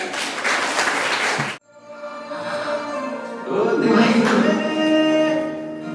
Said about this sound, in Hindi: उनका जोरदार तालियों के साथ स्वागत करें।